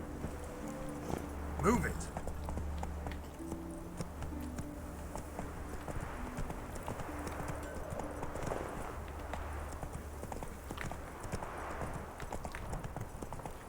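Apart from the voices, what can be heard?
horse galloping in the video game The Witcher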